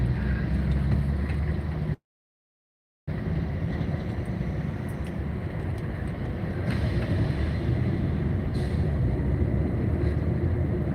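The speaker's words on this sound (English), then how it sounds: "We can see this traffic is pretty heavy." Steady low rumble of heavy rush-hour road traffic on Science Avenue in Chongqing, engines droning continuously from nearby, with a brief moment of complete silence early on.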